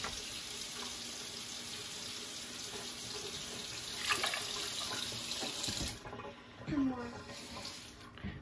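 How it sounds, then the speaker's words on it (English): Tap water runs steadily into a cooking pot for rice, a continuous splashing stream that thins and breaks off toward the end, with a few clinks of the pot. "I put a little bit more water, okay? Make sure it's gonna cook."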